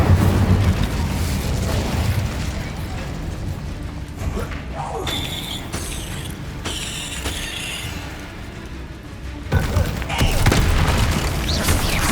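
An Incendio fire spell cast in Hogwarts Legacy, a loud whooshing, crackling burst of flame within a heavy booming, rumbling combat mix with several sharp impacts.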